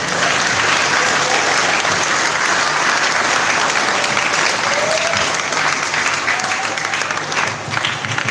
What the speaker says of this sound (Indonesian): Jadi beri tepuk tangan yang meriah.